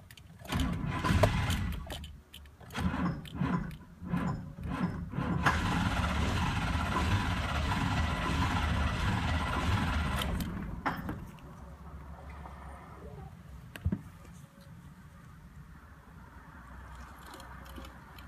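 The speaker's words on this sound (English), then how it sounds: "Ignition system is disabled now, so then I'll crank and see, check the starter itself." A 1997 GMC engine with its ignition disabled cranks on the starter for several seconds, the churning steady and loud, then stops and leaves a quieter mechanical hum. No one speaks.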